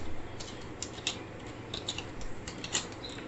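Computer keyboard typing at a quiet level, a string of light, irregular key clicks in short bursts with small pauses, close and alone.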